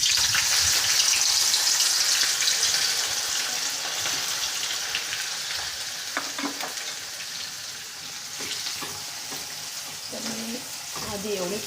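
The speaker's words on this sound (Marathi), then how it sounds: "आधी एवढे ते कारले टाकलेले आहे ते तेवढे तळून घेत आहे" Bitter gourd frying in hot oil with onions, a dense continuous sizzle close by, with faint stirring scrapes toward the end.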